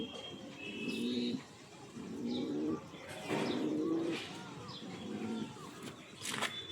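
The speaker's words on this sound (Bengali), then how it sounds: "এই হচ্ছে পায়রা।" Domestic pigeons kept for sale give soft, repeated throaty coos in a steady rhythm, about four low calls spaced over several seconds, fairly faint with a few light chirps between them.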